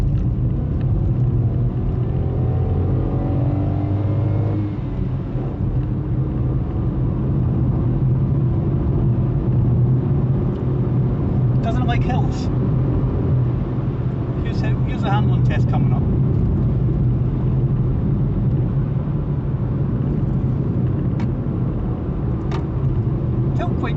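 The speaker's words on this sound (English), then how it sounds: "We're going to pitch this car into a left hand bend, so I'm just going to drop down a gear, build up some speed" Ford Fiesta Trend 1.1 engine rumbling steadily from inside the car as the driver drops a gear and builds speed into a left-hand bend, a continuous loud drone with someone talking over it.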